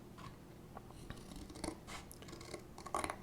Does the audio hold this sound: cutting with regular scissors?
yes